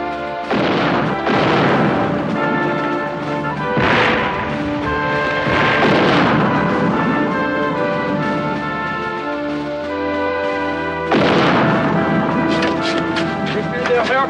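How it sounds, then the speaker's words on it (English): Heavy cannon fire booms from Dorchester Heights onto Boston during the siege, with repeated loud blasts and crashes amid orchestral music. "They're firing on us from Dorchester Heights."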